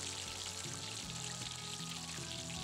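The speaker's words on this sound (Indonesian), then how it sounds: "kemudian kita goreng ke dalam minyak panas" Steady crackling sizzle of tofu frying in hot oil, close and continuous with no talking.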